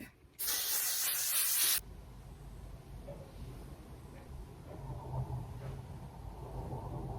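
A single steady burst of makeup setting spray, similar to hairspray, hisses loudly and close for just over a second, then stops, leaving quiet room tone.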